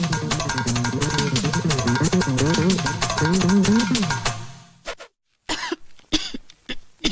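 A person in a comedy film scene coughs in a long, strained, voiced fit, followed by a short silence and a few sharp, separate coughs.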